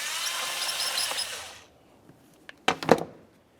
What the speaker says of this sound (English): Use our 8mm to loosen this clamp.